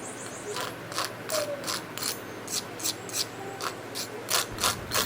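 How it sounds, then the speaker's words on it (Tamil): Crisp homemade rusk, made in a kadai without egg or oven, crunches and crackles under the press of a fork: a string of sharp, dry snaps in an uneven rhythm, close and fairly quiet. "நம்ம வந்து அந்த ஃபோக் வச்சு இந்த மாதிரி செய்யும் போது எவ்வளோ சூப்பரான சத்தம் வருது."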